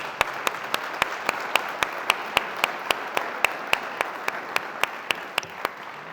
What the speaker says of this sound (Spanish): Primero un aplauso, ¿no? Muchas gracias.